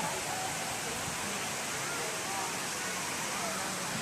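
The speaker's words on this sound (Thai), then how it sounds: "น้ำตกหมอกเหล็กสระบุรี" Muak Lek waterfall in Saraburi, Thailand, rushing and splashing into a pool as a steady, dense roar of water, loud and continuous throughout.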